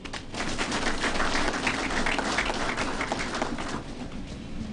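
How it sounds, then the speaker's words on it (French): A crowd applauding steadily and loudly, dense clapping throughout that eases slightly toward the end. "applaudissez encore plus fort."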